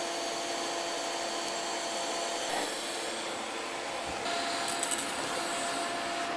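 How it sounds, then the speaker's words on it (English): Welding on a metal part makes a steady, crackling hiss that runs continuously at an even level, fairly close, with small shifts in tone partway through and no talking. "so now we weld it up"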